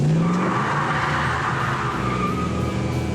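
A classic car is driven hard at a car show, its engine roaring loudly with tires squealing and skidding, a sustained strained whine that shifts pitch as it runs.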